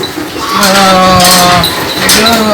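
A purebred Totapari goat, a breed from the Rajasthan border region, on a goat farm, letting out a loud, close, wavering bleat followed by a second shorter call, with faint clinking in the background.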